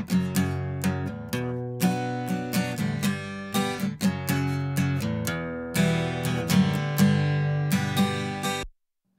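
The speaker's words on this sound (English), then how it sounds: "here I've got a recording of an acoustic guitar" Acoustic guitar captured by two microphones, one on the left and one on the right, playing clear strummed and plucked chords in a steady rhythm, close and full, ringing out before stopping abruptly.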